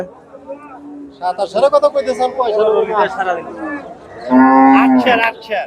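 A cow gives several loud, drawn-out moos at a busy cattle market, with people talking and chattering around and between the calls.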